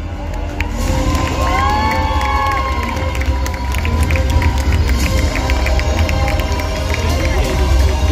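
A large crowd at a cosplay parade during a Japanese pop culture festival cheers and shouts, with children's voices and scattered clapping in a loud, continuous hall din.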